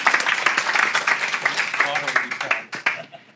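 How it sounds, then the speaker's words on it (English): An audience at a real estate panel bursts into scattered clapping that continues steadily beneath a person talking, then thins out at the end. "Today, you can clap for that."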